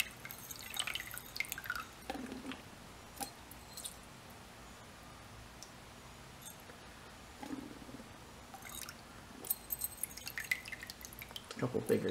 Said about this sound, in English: It's helpful to have a wash bottle, just squirt up,